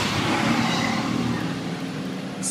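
A city bus rolls by on the street in fine weather, a steady broadband engine and road rumble holding loud and close through the whole stretch, with no voices over it.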